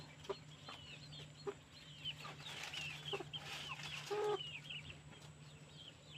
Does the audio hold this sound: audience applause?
no